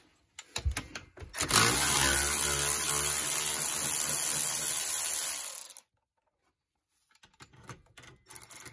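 An impact wrench or power tool spins off 17 mm brake caliper bolts during a wheel bearing replacement, a loud continuous whir lasting about four seconds after a short rattle, then silence and a few faint clicks.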